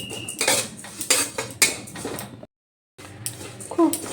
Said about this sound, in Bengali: এবার এগুলো একটু ড্রাই রোস্ট করে নেব হালকাভাবে